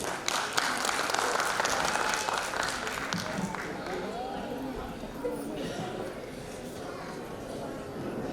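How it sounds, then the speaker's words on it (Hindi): An audience at a corps day diamond jubilee celebration applauds before a dance performance, loud dense clapping at first that thins gradually, with crowd chatter and a voice underneath. "एक बार जोरदार तालियां हमारी युवा पीढ़ी के लिए"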